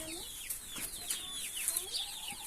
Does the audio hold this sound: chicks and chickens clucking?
yes